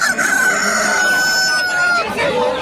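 A rooster crows with a long drawn-out call close by, and hens cluck around it in a busy poultry market, loud and near.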